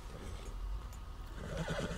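A horse neighs and whinnies during a ride in Red Dead Redemption 2, a loud drawn-out call over a steady game background, with fainter hoof clip-clop underneath.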